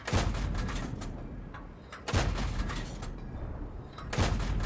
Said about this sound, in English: We're going to do some blind firing over here.